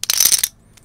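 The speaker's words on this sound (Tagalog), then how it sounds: "Coin." A coin drops and rattles with several quick metallic clinks in close succession, followed by one faint later tick, recorded close to a microphone.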